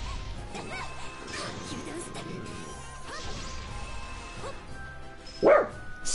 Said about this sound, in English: Lay down and stop barking.